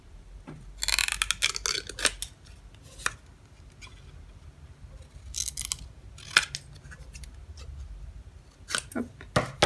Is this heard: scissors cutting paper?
yes